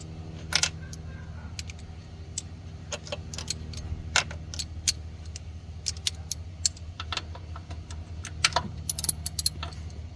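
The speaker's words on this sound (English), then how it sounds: "get our 10mm socket and remove these 4 bolts" Socket wrench work on the bolts of a 1998 Ford F150 4.2L throttle body, heard as scattered sharp metallic clicks and clinks close by over a steady low hum, with no talking.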